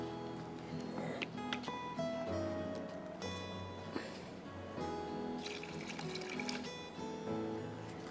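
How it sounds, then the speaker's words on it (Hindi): Water poured from a cup into a pot of rice for pulao, a soft liquid splashing and trickling heard under a voice talking in a kitchen. "एक कप मैंने और पानी डाल"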